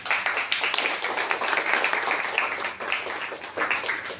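People clapping their hands together during a church worship gathering, a dense, continuous patter of many claps at close range with no speech over it.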